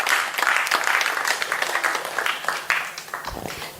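A conference audience claps in a brisk, full burst of applause, fairly close and loud, easing slightly toward the end where a brief low thump is heard.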